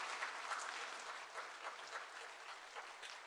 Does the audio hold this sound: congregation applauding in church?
yes